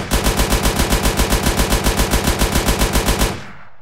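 A vehicle-mounted cannon in Arma 3 fires a fast, steady, evenly spaced stream of loud rounds for about three seconds, then stops and leaves a fading tail.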